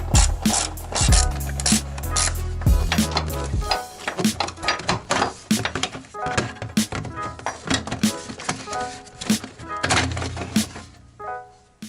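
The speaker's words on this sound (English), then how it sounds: "Remove this 10mm bolt and with the same 10mm socket you can loosen this clamp down here." Ratchet turning a 10mm socket to remove a bolt and loosen a clamp on an NA Mazda MX5 Miata, a run of quick, close, rhythmic clicking bursts with a few pauses and mechanical knocks.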